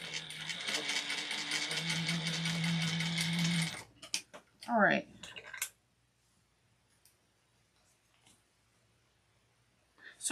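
A sewing machine stitches wallet lining in a steady rapid run for about four seconds, followed by a few clicks and a brief squeak before near silence.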